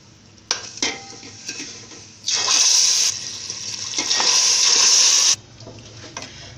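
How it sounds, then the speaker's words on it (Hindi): Crushed vermicelli fries in hot oil as it drops into the pan, with a loud burst of sizzling that holds for about three seconds among metallic clinks of a pot and utensil, close by and without voices. "अब इसमें जाएगी सवैयाँ जो मैंने चूरा करके रखी हुई है, और इसको मैं फ्राई करूँगी"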